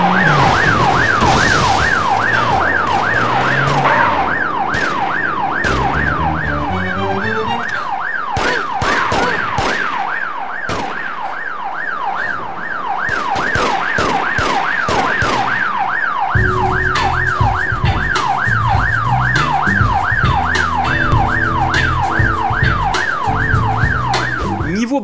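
Police car sirens from the PS2 driving game The Getaway wail loudly and steadily in a rising and falling cycle. Under them, crashes, engine roar and sharp impacts come and go.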